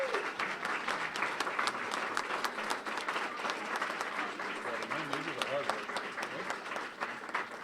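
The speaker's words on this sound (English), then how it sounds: "Let's give them a round of applause." An audience claps warmly at the Guilford Community Fund 2017 annual meeting, a moderately loud, even patter of many hands that carries on without a break.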